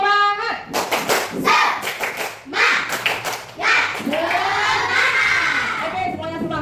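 A fourth-grade class in an Indonesian classroom performs a rhythmic spirit clap, with bursts of patterned hand claps mixed with the children's loud chanting and shouting voices close by.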